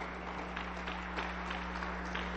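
Congregation applause inside a Pentecostal church service: faint, steady clapping from a group, heard distantly under a constant electrical hum and hiss.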